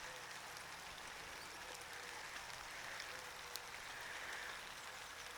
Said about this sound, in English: with it raining